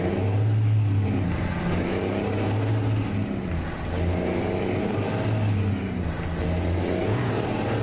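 A 1,000 horsepower truck engine in Euro Truck Simulator 2 drones loud and steady, revving with a deep, continuous rumble and rising whine, with no talk over it.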